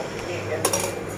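A pot lid is fetched in a home kitchen, producing a brief, close metallic clatter of dishes and cookware against a quiet background.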